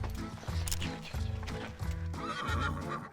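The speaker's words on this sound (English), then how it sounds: "This horse is uncontrollable." A restless, dirty horse being led to a river gives loud repeated whinnies over a steady rhythm of hooves clip-clopping close by.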